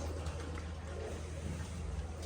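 Ragdar Lambari pigeons cooing softly in a loft, low murmuring coos over a steady background hum, no talk.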